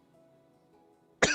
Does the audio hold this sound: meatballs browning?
no